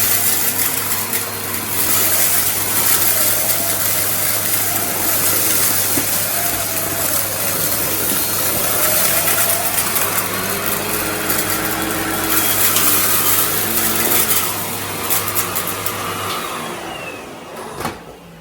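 A Henry vacuum cleaner fitted with a 25 watt turbo electric power head runs steadily and loudly throughout, a continuous whirring drone with no speech.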